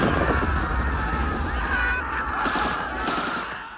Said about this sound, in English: There are some actual explosions there.